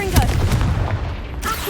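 A Confringo fire spell blast in Hogwarts Legacy, a loud booming burst with a crackling tail, close and continuous for under two seconds with a short whoosh at the end.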